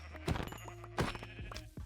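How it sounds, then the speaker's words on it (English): Sheep bleat in Minecraft on a superflat world: a few short wavering bleats, spaced apart and moderately loud, with soft game thuds between them. "I spotted some sheep in the distance."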